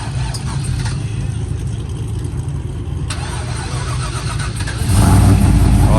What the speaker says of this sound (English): we got this truck right here about to start up